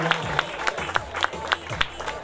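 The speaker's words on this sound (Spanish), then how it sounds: "Fuerte el aplauso para Anaí." A small crowd claps for a prize winner at an education and work showcase, steady moderate applause with no speech.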